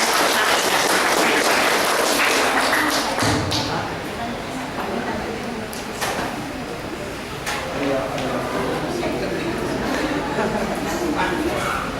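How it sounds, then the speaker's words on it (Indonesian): A crowd applauds at a school literacy event, a dense burst of clapping that fades after a few seconds while a voice speaks over it. "Aplaus untuk Robin Wijaya"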